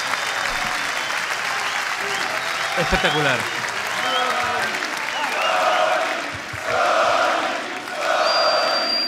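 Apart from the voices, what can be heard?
crowd applauding at a rap battle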